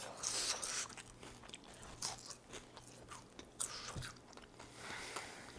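Someone bites and chews a hot, freshly baked flaky Portuguese custard tart (pastel de nata) up close, with crisp crunches and soft chewing sounds over several seconds and no talking.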